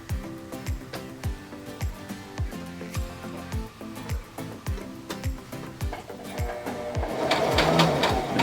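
A sewing machine stitching elastic onto a cloth face mask runs in a steady, rapid rhythmic chatter of needle strokes, close and clear, turning to a louder, denser whir near the end.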